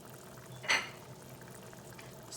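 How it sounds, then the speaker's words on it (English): Tamarind juice for an Odisha fish curry boils in a pot, a steady soft bubbling hiss with one brief louder splash or stir near the start. "So that the tamarind juice will also be cooked another 2 minutes here. So let it boil 3 more minutes."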